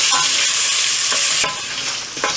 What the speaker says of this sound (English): Now is the time to add the chopped ginger, and again we will fry a little bit till the smell of ginger comes out.